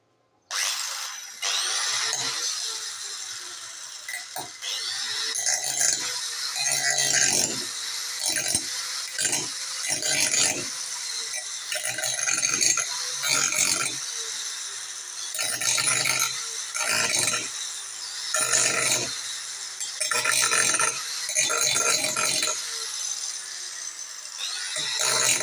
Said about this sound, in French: Ok, je vais un peu meuler.